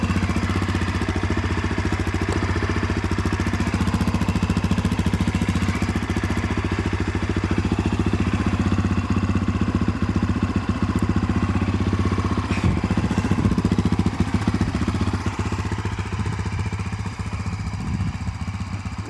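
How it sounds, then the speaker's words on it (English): A 2020 Honda CRF 250F dirt bike, hot after riding, idles steadily in neutral with a loud, close, even four-stroke thrum and light mechanical clatter throughout. "it sounds like a trail bike"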